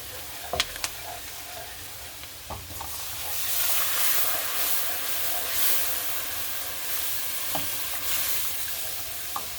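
Half and half poured into a pan of simmering curry meatball sauce, a steady close sizzle and bubbling hiss with a few sharp clinks early on, growing slightly louder and fuller midway.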